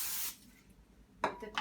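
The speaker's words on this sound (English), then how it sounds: "I'm gonna spray it" A spray bottle mists water onto a multiseed sourdough loaf on a parchment-lined baking sheet, a short sharp hiss at the start followed by quiet, then two more brief sprays near the end.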